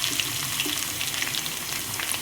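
Crushed garlic frying in a pan on a gas stove for a Telugu-style dal soup, giving a steady, close, continuous sizzle with faint crackles and no voices.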